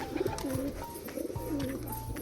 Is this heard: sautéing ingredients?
no